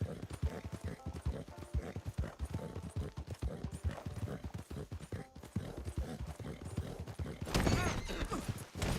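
Horse hooves clip-clop steadily in a steady walking rhythm in a video game, close and fairly loud, with a brief whinny-like burst near the end and no speech over it.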